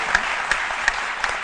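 Studio audience of a midday TV health and diet show applauds in a steady, even patter with a few brief peaks; a short burst lasting only a moment, with no voices over it.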